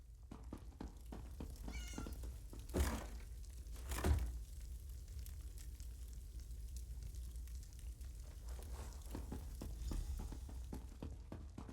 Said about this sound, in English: Not another cat.